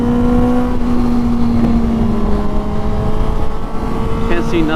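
A Honda motorcycle engine, either 250cc or 600cc, drones loud and steady while being ridden, pitch sliding slightly downward, with a voice talking over it.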